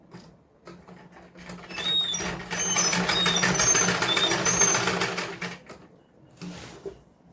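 A sewing machine stitches down folded salwar fabric, its needle chattering in a fast, steady run for a few seconds near and loud before it slows and stops, with short start-stop bursts around it.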